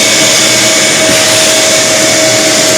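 A vacuum cleaner runs in a cluttered garage, a loud, steady motor whine with a sustained high tonal hum and airy rush throughout, no voices.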